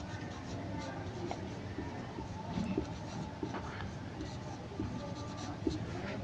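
A pen scratches across paper while a class five math problem is worked out, making soft, irregular writing strokes and scrapes over a low room background.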